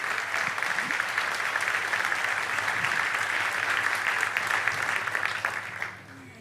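A church congregation applauds steadily during a celebration service, a dense wash of many hands clapping that holds for several seconds before fading out at the end.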